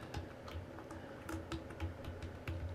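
Typing on a computer keyboard, a quick run of light clicking keystrokes in irregular bursts, close and moderately quiet, with no talk.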